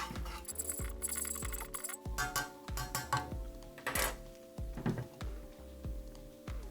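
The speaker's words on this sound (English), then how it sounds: "Give it a little stir." A spoon stirring a blackcurrant drink from a Norwegian arctic field ration, clinking repeatedly against the container in a quick uneven rhythm, close and fairly quiet, with light metallic rattles between strikes.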